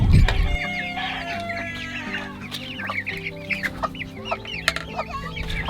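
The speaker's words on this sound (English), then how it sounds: "This is our baby chicks, breast chickens that we hatched out, and Dove who has been taking care of them" Baby chicks clucking and chirping steadily on a farm, several birds close by with overlapping calls, after a brief low thump at the start.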